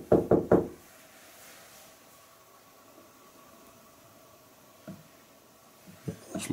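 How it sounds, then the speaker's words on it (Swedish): Three sharp knocks rap on the wooden door frame of an old house, followed by near-silent room tone and a couple of fainter taps near the end. "Jag knackar tillbaka."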